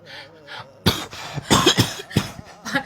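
An adult coughs repeatedly up close, a series of sharp, rough bursts following some faint background murmur.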